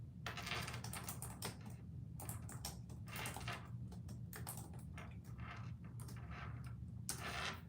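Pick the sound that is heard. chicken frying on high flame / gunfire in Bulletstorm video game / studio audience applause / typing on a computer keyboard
typing on a computer keyboard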